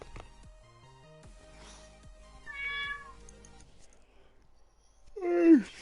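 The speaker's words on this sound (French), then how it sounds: "Le chat il fait miaou." A cat meows loudly near the end, with a shorter, fainter meow partway through, over quiet background noise from a Rocket League game stream.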